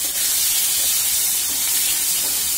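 Paneer frying in hot oil for kadai paneer gives off a steady, bright sizzling hiss, close and loud, with no talking over it.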